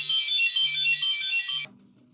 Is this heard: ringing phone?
yes